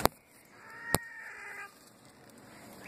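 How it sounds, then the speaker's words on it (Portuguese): A rooster crows once in a garden, faint and distant, with a couple of sharp knocks nearby and quiet background hiss. "Aqui foi seu galo."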